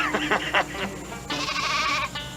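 Sheep bleating in a short run of wavering calls, one following another, fairly close and clear, with no talk over them.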